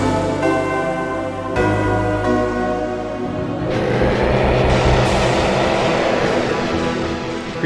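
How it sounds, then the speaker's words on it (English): Ganondorf's creepy train in the Zelda game Spirit Tracks, heard as a low, droning engine tone broken by sharp cuts, then a rumbling, rattling run of rolling wheels. "Creepy Ganondorf train."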